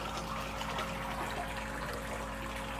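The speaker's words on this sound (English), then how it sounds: "And that lets the water agitate, get any particulates off the surface." Water circulating and agitating from a filtration hose in an isolation tank, a steady broadband wash of moving water with a low constant hum beneath, close and continuous without pause.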